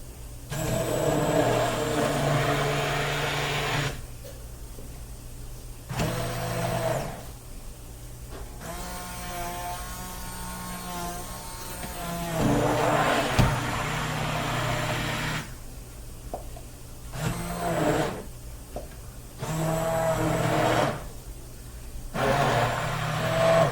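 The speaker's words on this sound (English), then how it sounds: "I'm using my immersion blender to create the crushed tomatoes." An immersion blender whirs in bursts as it crushes whole tomatoes for a slow-cooker cheese tortellini tomato soup, its loud motor starting and stopping several times with pitch changing under load.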